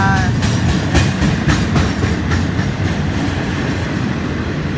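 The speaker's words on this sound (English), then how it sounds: "There come the Florida East Coast train cars." Florida East Coast freight train cars roll past close by, a loud continuous rumble with rhythmic clickety-clack of wheels over rail joints and a faint tonal whine at the start.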